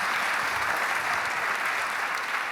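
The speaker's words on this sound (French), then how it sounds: "Et on peut l'applaudir." A conference audience applauds, a dense, even wash of clapping from many hands sustained throughout at moderate loudness, with no voices standing out.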